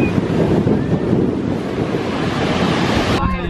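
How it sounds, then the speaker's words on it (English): Strong wind roars into the microphone over the steady crash and wash of ocean surf on Brighton beach, loud and continuous, with a sudden dropout near the end. "That is what you call waves. As you can tell, it's very, very, very windy."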